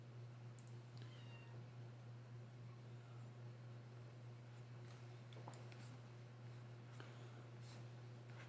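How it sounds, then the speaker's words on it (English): A kitten cries outdoors in faint, scattered meows over a steady low indoor hum, distant and intermittent. "Got a kitten screaming outside."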